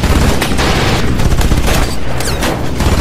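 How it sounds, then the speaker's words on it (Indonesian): Rapid, dense gunfire crackles in a night battle involving Spanish military troops in a Middle East combat zone, with bursts of shots and booms overlapping loudly and continuously throughout. "tembakan pertama dari musuh pun dilepaskan, sehingga pertempuran malam pun pecah"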